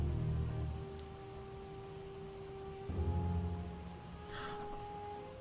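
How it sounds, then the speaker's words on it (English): Steady rain falls in Project Zomboid, a soft continuous patter with low rumbling hints of thunder under a faint droning tone, fairly quiet throughout. "Oh, well, now we're getting rained on as well."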